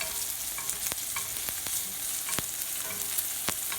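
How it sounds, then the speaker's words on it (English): Butter spooned over a steak in a hot pan sizzles steadily, with sharp crackling spits and splashes recurring every half second or so, close and without talk. "I'm just throwing some butter over the steak"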